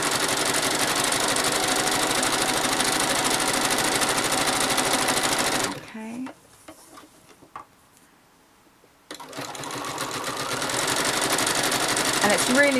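Sewing machine stitching free machine embroidery on a postcard with variegated thread, a fast steady rattling run that stops for a few seconds of near silence before starting again; speech is heard between runs.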